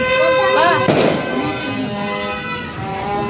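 A firecracker bangs once, sharp and close, during New Year celebrations in the Philippines, while people keep talking before and after the burst.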